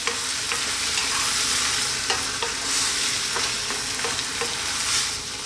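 Eggplant chickpea curry with tomatoes cooking on high heat, a dense loud sizzle with occasional spoon taps and scrapes as it is stirred.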